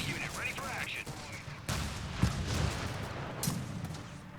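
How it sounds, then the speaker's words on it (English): Mortars firing in Company of Heroes 3, heard as a dense wash of battlefield gunfire with a few sharper thumps and blasts, a sudden louder burst near the middle, with a voice talking over it. "The mortars are still firing."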